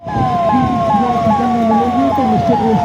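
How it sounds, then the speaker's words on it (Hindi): Ambulance siren wailing during a police mock drill at a police lines ground in Moradabad, loud and close, a repeating rising-falling electronic yelp cycling steadily throughout. "एम्बुलेंसेस वगैरह आ रही हैं"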